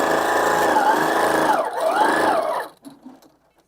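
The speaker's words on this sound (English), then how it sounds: "turn the machine on, and we're just going to sew right down this edge." A sewing machine stitches down a fabric edge with a steady, close, high-pitched motor whir for almost three seconds, then stops abruptly, leaving faint handling noise.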